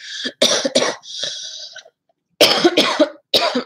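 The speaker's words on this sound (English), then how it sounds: "it's going to make me cough and sound terrible" A smoker gives several harsh, raspy coughs in quick bursts, a short pause, then another cluster of rough coughs, close and loud with no speech.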